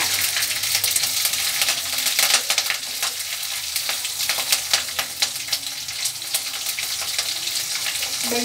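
Mustard seeds and green chilies fry in hot oil in a pan, giving a steady close sizzle with scattered sharp crackles and pops throughout.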